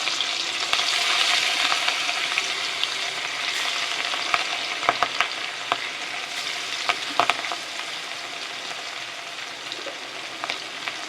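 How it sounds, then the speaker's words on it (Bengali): Pieces of rohu fish fry in hot white oil in a kadai, a loud, steady hiss broken by several sharp spitting pops, with no voices. "আমি মাছগুলো এক এক করে ছেড়ে দেবো, দিয়ে ভালো করে ভেজে নেব"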